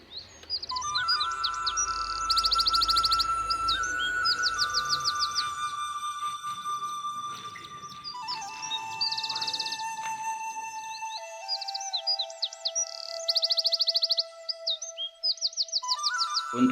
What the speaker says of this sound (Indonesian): Proses menetasnya burung palak pakit Australia